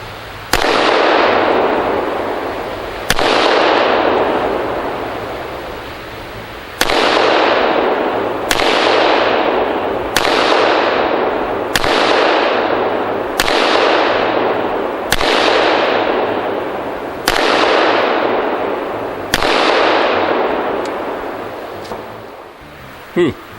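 A Dan Wesson Discretion pistol fires about eleven loud shots at a target roughly 15 yards away on an outdoor range at SHOT Show. The shots come in an uneven series a second or two apart, each with a long echoing decay.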